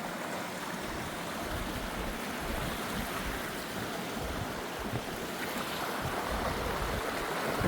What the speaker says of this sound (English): This is a bridge crossing, I think it's called the PMIG River.